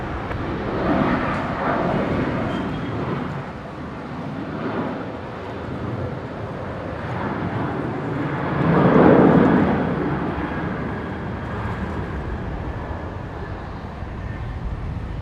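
Qantas airliner taking off from runway 19 left at Brisbane International Airport, a continuous broad roar of jet engines that swells around the middle and holds steady, with no talk.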